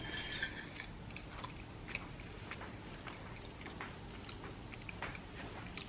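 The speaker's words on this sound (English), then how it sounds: "It is Hyderabadi biryani, so I think it will taste like that only. So let's have it." Someone chews a spoonful of hot ready-to-eat Hyderabadi biryani close up, with soft, faint, irregular mushy chewing and small crunches throughout.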